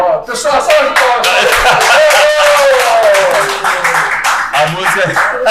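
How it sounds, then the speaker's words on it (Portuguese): A studio audience breaks into a round of applause during an interview, with loud, dense clapping mixed with laughter, cheering and chatty voices throughout. "Pessoal, salve de palmas."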